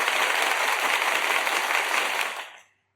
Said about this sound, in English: So apparently this is intense applause.